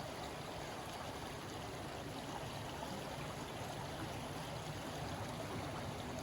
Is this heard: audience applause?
no